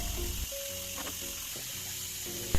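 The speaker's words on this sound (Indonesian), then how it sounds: "Ini mau aku siram-siram tempat cuci piringnya." Water splashes and rinses over a kitchen dish-washing sink in a steady, close gush that continues throughout.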